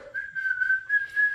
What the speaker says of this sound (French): Jacob fait que siffler.